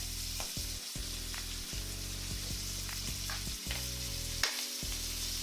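Shrimp sizzle in a large cast iron pan for a creamy shrimp pasta, a continuous fizzing crackle with occasional sharper pops, heard close beneath a low droning background hum.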